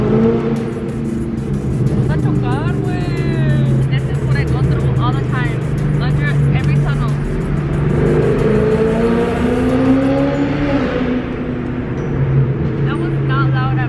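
A car cabin at speed, with a steady engine drone and road roar that rises in pitch as the car accelerates, heard from inside with people talking over it.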